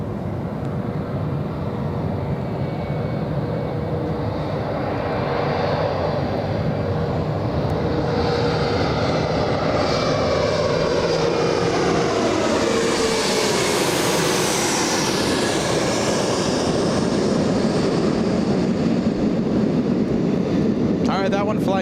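CRJ jet airplane landing at LAX, a loud, continuous engine roar that swells as the jet passes close, with a sweeping whine rising and falling through the middle and no one talking.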